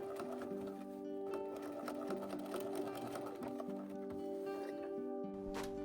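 A sewing machine stitches a dress casing closed, a fast, steady mechanical whir with rapid needle ticks and a few brief pauses and restarts, close and alone.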